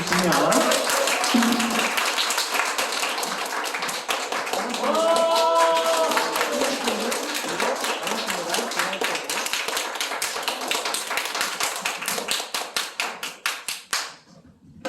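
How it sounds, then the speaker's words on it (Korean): A youth congregation at a church youth service claps in welcome, strong rhythmic unison clapping with a voice briefly calling over it, slowing into separate claps before stopping abruptly. "두 사람 위해서 환영의 박수 해주시면"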